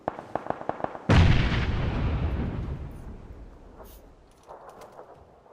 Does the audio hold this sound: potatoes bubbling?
no